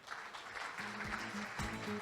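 Steady applause from a conference audience welcoming a scientist to the stage at a Korean scientists' congress, a continuous soft clapping texture with low musical tones playing underneath.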